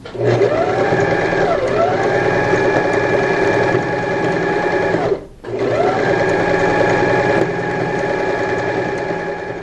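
A sewing machine with a presser foot gathers ruffles for a double-frill pillowcase, running in a steady loud whir with a brief pause near the middle before it starts up again.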